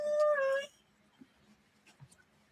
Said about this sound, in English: And a dog who's very upset.